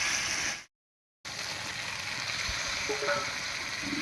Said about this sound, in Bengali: এবার এর মধ্যে দেবো ভেজে রাখা চিংড়ি মাছ।